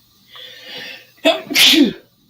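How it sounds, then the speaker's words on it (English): A single loud, close sneeze from a person, a brief inhaling buildup followed by a sharp burst, then quiet. "we heard you sneeze"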